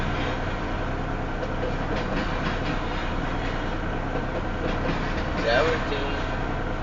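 A southbound Union Pacific stack train led by a Norfolk Southern locomotive rolls slowly past near Elkhart, Iowa, giving a steady rumbling drone with faint rail clatter that builds slightly, with a brief squeal near the end.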